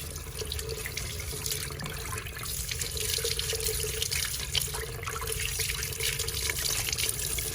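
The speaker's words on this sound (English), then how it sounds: "I'm just going to turn the sink on and turn it on low" A kitchen sink faucet runs on low as clay is rinsed off sculpting tools and rolling pins, a steady, close water stream with faint splashing throughout.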